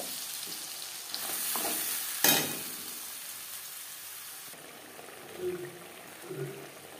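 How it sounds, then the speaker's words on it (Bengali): Onion and tomato paste fries in hot oil in a wok (kadai) after fish was fried in it for a fish curry, giving a soft steady sizzle with a louder burst early on and a few light stirring scrapes. "মাছ ভেজে নেওয়া কড়াইতে আবারও তেল দিয়েছি। দিয়ে দেবো পেঁয়াজ টমেটোর পেস্ট।"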